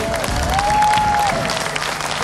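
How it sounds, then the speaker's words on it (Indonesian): Studio audience at an Indonesian TV show applauding, a dense burst of clapping that holds steady for about two seconds, close and fairly loud. "tepuk tangan untuk Juli"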